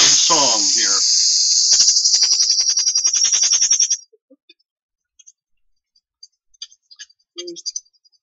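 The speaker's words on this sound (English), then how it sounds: "Here is one of our cicadas, the dog day cicadas." A loud, close cicada buzzes in a high, pulsing drone for about four seconds, then cuts off, leaving scattered faint clicks and ticks.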